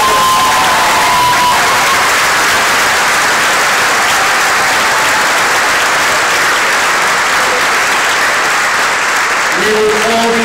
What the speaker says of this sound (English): one more round of applause for your class of 2022 principals